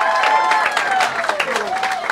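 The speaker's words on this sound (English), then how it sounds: "Let's keep clapping, whooping, cheering" Comedy club audience clapping, whooping and cheering to welcome a comedian, a dense steady wall of applause with shouts on top, loud and sustained throughout.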